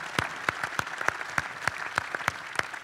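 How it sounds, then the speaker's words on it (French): Audience applause for the FDJ Suez cycling team at its team presentation, individual claps ringing out clearly and near in a fairly even rhythm over a continuous bed of clapping. "Je crois que vous pouvez applaudir l'ensemble de l'équipe FDJ Suez"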